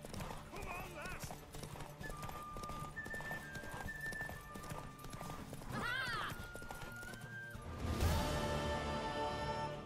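A mare's hooves clip-clop steadily with an occasional whinny in The Witcher 3, heard under talk and game music, with a louder burst of sound toward the end.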